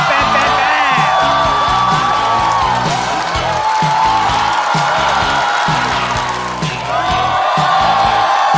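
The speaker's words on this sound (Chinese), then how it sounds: "掌声欢迎哈哈草" A stand-up comedy show audience welcomes a comedian with sustained applause and cheering, a dense crowd roar with whoops and a steady musical beat underneath throughout.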